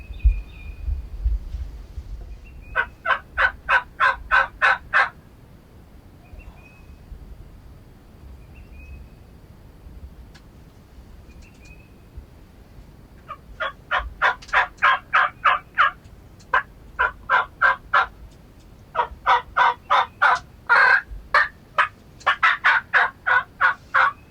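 A wild turkey gobbles in repeated rapid rattling bursts, loud and nearby, separated by quiet pauses with faint outdoor background.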